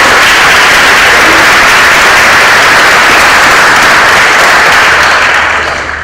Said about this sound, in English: Would you please take a moment and give them a round of applause for their efforts?